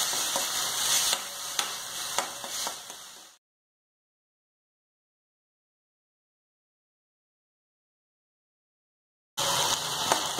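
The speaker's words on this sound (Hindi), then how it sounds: "अब इन्हें हम अच्छी तरह फ्राई करेंगे।" Ginger, tomato and green chillies fry in oil with a steady, close hiss and occasional stirring clatter. The sound cuts to several seconds of silence, then the same sizzle briefly returns.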